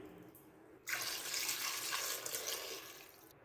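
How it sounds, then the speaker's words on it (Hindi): Tap water pours steadily into a pot of beef paya for about two and a half seconds, a bright rushing stream that starts abruptly and then stops, with no talking. "पानी थोड़ा सा हम और ऐड करेंगे।"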